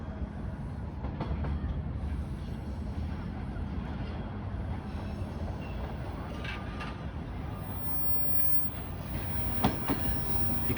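A subway train on Toronto's Line 2 moves slowly between stations during track maintenance, giving a steady close rumble of wheels on rails with faint squeals and clicks throughout.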